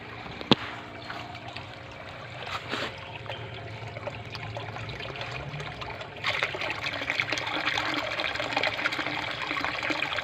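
Water trickles steadily through a homemade plastic filter sealed with scotch tape, making a close, continuous dribble that grows fuller and louder partway through.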